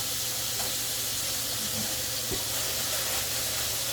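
Tap water running into a container to soak and wash carrots for Jamaican-style carrot juice, a steady, bright hissing rush that continues unbroken throughout, fairly close and without any talking.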